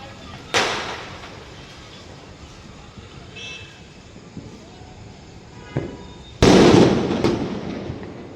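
Firecrackers burst outdoors in a village on Kartik Purnima: a sharp bang early, a smaller pop later, then a loud crackling blast near the end over faint background noise.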